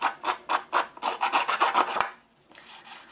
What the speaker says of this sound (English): grab our handy dandy little distressing tool, and then just gently rough up the edges, just slightly.